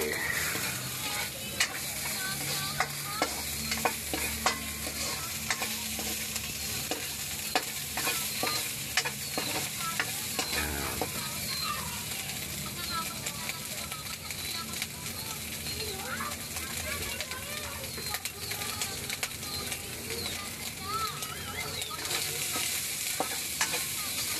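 Vegetables for pakbet sizzle steadily in a hot pan while a utensil scrapes and stirs them now and then; a voice talks intermittently over the cooking.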